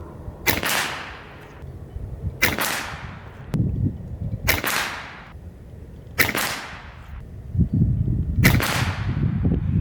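A PCP air rifle, the Barra 250Z, fires 25.4 grain FX pellets: five sharp, loud cracks spaced about two seconds apart, each trailing a short ring, with faint handling noise between shots.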